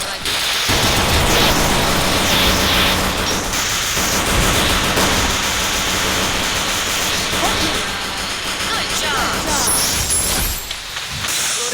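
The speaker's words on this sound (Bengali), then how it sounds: "বৃষ্টি পড়তেছে, বৃষ্টিতে ভিজতে পারতেছি না।" Heavy rain and storm outdoors, a loud, dense, steady roar of downpour filling the whole stretch with no speech over it.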